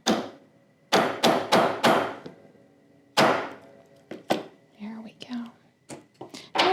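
A metal bracelet is hammered between two steel plates, giving a series of sharp, ringing strikes in quick bursts, with soft voice sounds between the blows.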